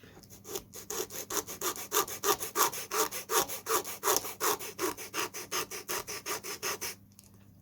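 A foam model airplane wing, its back edge being cut off to form flaps, gives a steady run of rapid back-and-forth sawing strokes, close and fairly loud, until a short pause at the end.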